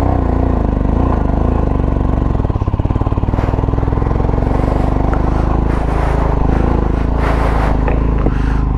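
Motorbikes revving hard as they climb a steep mountain track near Leh, engines droning loudly and continuously with a rough, pulsing labour throughout.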